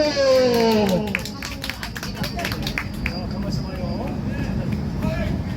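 A church congregation claps together during a service, a dense spread of hand claps that carries on steadily with voices mixed in throughout.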